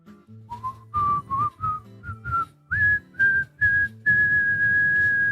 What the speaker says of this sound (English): Because it's whistling, right?